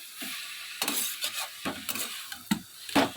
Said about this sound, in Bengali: ননস্টিকের কড়াটাতেই করছি ননস্টিকের কড়াতে দেখবে এই ননস্টিকের খুন্তিগুলো দিয়ে করলে বেশি ভালো হয়